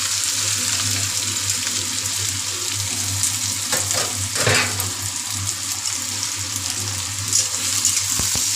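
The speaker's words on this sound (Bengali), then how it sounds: "পেঁয়াজটা ভাজতে তো আমার এখন একটু টাইম লাগবে" Onion fries with garam masala in a pan, giving a steady close sizzle with a constant low hum beneath and a few scattered stirring clinks, with no talking.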